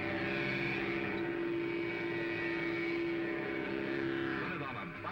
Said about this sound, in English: Sounds like a real engine.